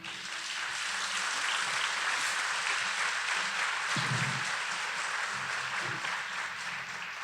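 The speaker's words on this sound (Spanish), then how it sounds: "Dele un aplauso al Señor" A church congregation applauds loudly and continuously, dense clapping filling the space from start to finish, with a brief low thump partway through.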